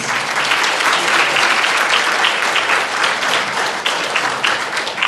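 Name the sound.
audience applause for Moses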